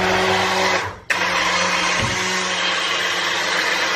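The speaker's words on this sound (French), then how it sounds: "maintenant, je vais mixer les légumes" Electric blender puréeing vegetables for soup: a loud, continuous whirring motor close up, briefly dipping and cutting out for a moment before resuming at a steady pitch.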